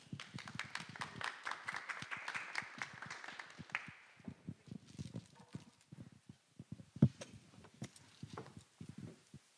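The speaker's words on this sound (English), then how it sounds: "So warmly applaud to Maria Lindqvist" An audience applauds to welcome a speaker at a talk, a dense patter of clapping that is strongest over the first four seconds, then thins into scattered, uneven claps.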